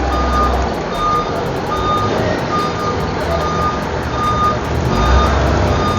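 Trucks manoeuvre in a busy container yard, their reversing alarms beeping steadily and rapidly over a loud, continuous rumble of engines.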